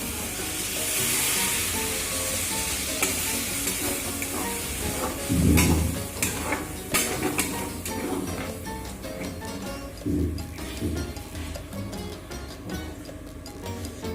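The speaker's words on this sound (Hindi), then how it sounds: "अब मैं इसमें पानी ऐड करूँगी।" A hot pan of mixed vegetables and paneer hisses and sputters loudly as about one and a half glasses of water hit it, the sizzle surging twice and then settling into a steady bubbling crackle.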